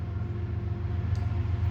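A train passes nearby with a steady loud low rumble and a continuous horn blast droning over the rolling of the cars, heard outdoors with no talking.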